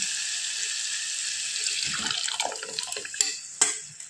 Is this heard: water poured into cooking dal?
yes